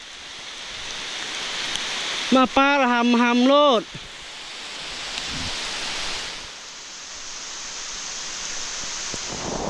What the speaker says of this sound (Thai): ฝนไหลฝนดี